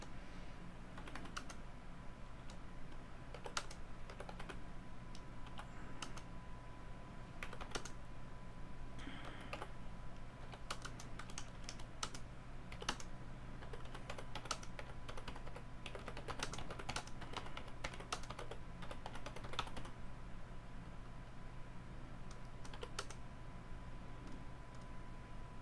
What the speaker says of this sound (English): I know I should be copying and pasting instead of typing all this out.